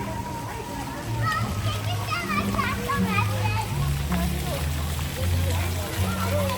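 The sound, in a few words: children playing in a splash park water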